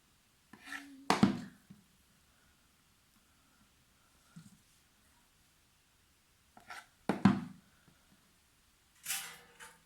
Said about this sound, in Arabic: تو نقصهم صويبعات صباع قد الصباع نحاول